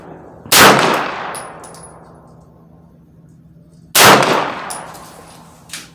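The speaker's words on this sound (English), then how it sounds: "And I'm gonna take 5 shots." Two loud, sharp Foxtrot AR9 pistol shots fired at an outdoor target, several seconds apart, each followed by a ringing decay and a faint metallic ping; no talking.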